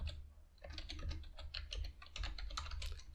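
Rapid, steady typing on a computer keyboard, close and distinct, while entering a database name in Power BI, with a low background hum and no voices.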